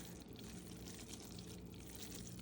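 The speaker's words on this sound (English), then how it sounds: "I have my caramel mixture ready to be poured right on top of our" Thick homemade caramel mixture pours from a pot over saltine crackers lined on a sheet pan, a soft continuous sticky stream heard close and quiet with no talking.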